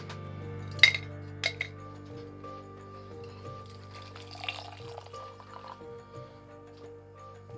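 A spoon clinks against a Harry Potter ceramic mug while stirring hot chocolate, giving two sharp taps near the start and softer scraping clinks after, close and fairly quiet over a steady background hum.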